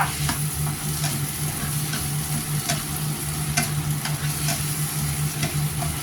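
Beef stir-frying in a hot pan, Hong Kong style, giving a continuous close sizzle with light, regular scrapes and taps of the spatula, and no talking.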